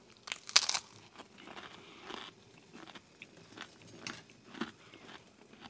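Crunchy cracker or biscuit from a Middle Eastern field ration being bitten and chewed: a couple of sharp, close crunches at the start, then softer, irregular chewing crackles spaced through the rest, fairly faint with no talk.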